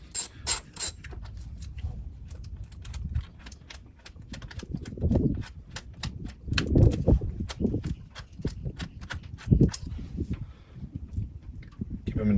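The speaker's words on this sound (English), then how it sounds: "I'm using an extension here, make it easier to get to the bolts. And slowly screw that out." Ratchet with an extension unscrewing ignition coil bolts on a 2017 Ford Explorer Police Interceptor Utility, a rapid run of sharp clicking close up, with someone talking between bursts and occasional metallic knocks.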